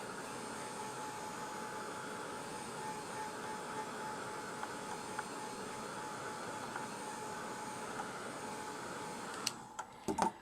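A heat gun blows steadily for about nine seconds, a continuous broadband rushing hum used on a mixed-media miniature fairy door craft, then cuts off with a few clicks and handling knocks at the end.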